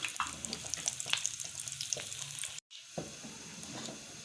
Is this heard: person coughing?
no